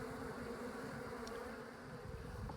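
A honeybee colony in a box during a hive removal, with dead bees on the bottom and the rest clustered on the edges, gives off a steady, soft, continuous buzzing hum that never breaks.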